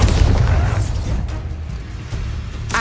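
Bombarda blasting spell going off in Hogwarts Legacy: a heavy, booming blast opens loud and rumbles, then decays over a couple of seconds, with a sharper crack right at the end.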